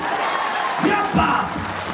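Audience clapping at a live Bhojpuri stage performance, a dense steady wash of applause from a crowd that swells slightly near the end of the two seconds.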